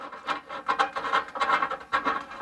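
Threaded rod scraping and rubbing as it is pushed through a tight drilled hole in a wooden table stand, a series of uneven rasping bursts, close and fairly quiet, with no talk.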